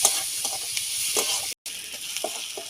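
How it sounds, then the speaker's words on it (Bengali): Chopped onions frying in oil in a pan for prawn curry, a steady close sizzle with soft stirring scrapes, briefly cut off midway. "পেঁয়াজটা দিয়ে ভালো করে ভেজে ভেজে লাল করে নিতে হবে।"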